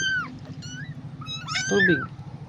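Young kittens give several high, thin meows close by, a couple of short cries and then a longer overlapping one, with soft background noise.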